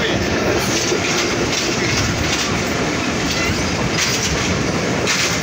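The 734 down Titumir Express runs on rails near Saidpur on a rainy day. A steady, loud roar of wheels and carriages goes on throughout, with a rhythmic clatter and a few brief high squeals.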